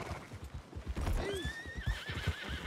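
Horse galloping and neighing in the Red Dead Redemption 2 video game, rhythmic hoofbeats pounding close by while a loud whinny rises over them.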